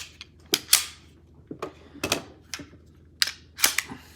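A CZ P-07 pistol slide being racked and handled, a series of sharp metallic clicks and clacks in irregular bursts, close and dry with no speech.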